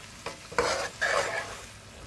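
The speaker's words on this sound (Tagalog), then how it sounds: "Trip ko ngayon ang ginisa." King oyster mushrooms and negi sautéing in a pan, a soft sizzle with a few scraping stirs in short bursts, close and moderately loud, no talking.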